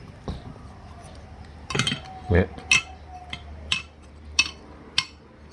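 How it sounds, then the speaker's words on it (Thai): Several sharp metallic clinks ring out one after another as a small metal Buddha amulet is tapped, with someone speaking briefly in Thai between them. "เหมือนเหล็กเลยนะครับนี่เสียง"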